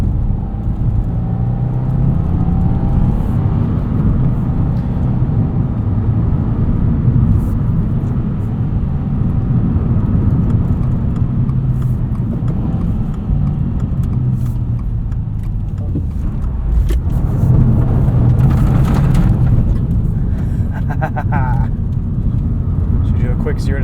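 A 2022 Subaru WRX Premium with a six-speed manual drives on a gravel road, heard from inside as a steady, loud rumble of engine and tyres on loose stones that swells briefly near the end.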